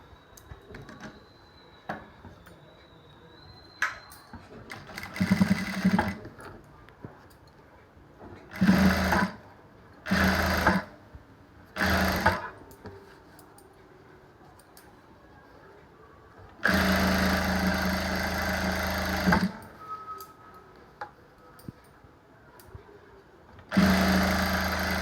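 A sewing machine stitching fabric piping runs in short, close bursts, then in two longer steady runs, with quiet pauses between.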